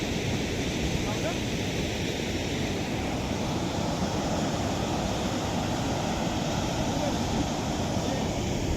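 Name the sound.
river water flowing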